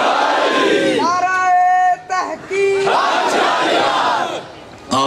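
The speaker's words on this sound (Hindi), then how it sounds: "दोबारा से नारा लगा, नाराए तकबीर, नाराए हाजरी, नाराए तहकीर" Crowd at a religious gathering chanting the Nara-e-Takbir slogan, loud massed voices rising in call-and-response waves with a brief drop between rounds.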